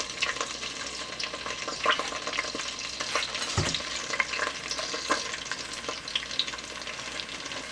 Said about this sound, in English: I put some oil in my pot, the palm oil, and I'm going to put some onions in there.